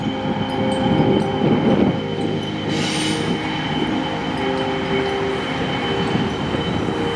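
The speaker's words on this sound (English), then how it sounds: "in search for catching a train over this bridge" Norfolk Southern export coal train crossing a bridge in Virginia, with a continuous heavy rumble of railcars, rhythmic clatter and recurring wheel squeal, close and loud with no talking.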